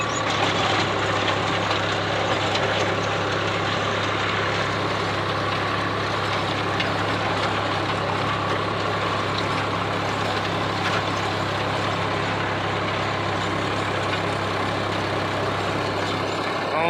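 A tractor pulling a rotavator turns in a dry, dusty field where wheat was just harvested, a steady, loud diesel drone with a constant low hum and grinding, rattling noise from the machinery, heard close with no talk.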